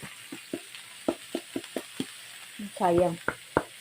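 Bitter gourd (ampalaya) sautés in a pan under a soft sizzle, punctuated by a steady series of sharp spatula clicks against the pan and a short voiced sound near the end.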